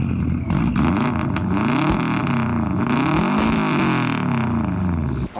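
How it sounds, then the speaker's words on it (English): Subaru WRX race car fitted with a Crawford Gymkhana exhaust revs loudly and continuously up close, its engine note climbing and falling in repeated sweeps with no talking. "There's the Crawford Gymkhana exhaust from Ken Block's Gymkhana 1 video, basically. Those things are loud."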